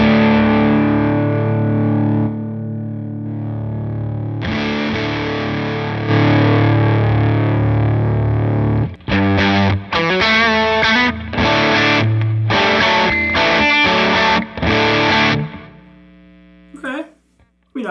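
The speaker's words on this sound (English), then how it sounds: "So let's hear what the overdrive sounds like." An electric guitar played through the overdrive effect of a Line 6 Helix amp modeler, loud and distorted, with long sustained chords followed by a run of choppy, rhythmic stabs that trail off into near silence.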